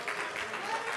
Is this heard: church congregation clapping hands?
yes